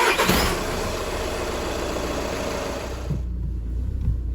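A Skoda Yeti TDI diesel engine cranks and fires up after a fuel filter change, then settles into a steady, loud idle close by, and the starter whine drops away partway through.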